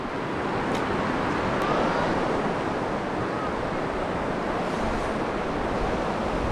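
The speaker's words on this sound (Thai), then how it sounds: "บรรยากาศดีลมพัดบ่อย ๆ" Steady wind blowing beside the Sedone river at Kaeng Katai in Khong Sedone, Laos, a constant broadband rush with no breaks, loud and close with no voices.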